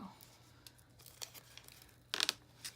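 Paper tearing where a planner page was not cut all the way through, a few soft rips and crinkles ending in a louder, sharper tear, close and quiet with no speech.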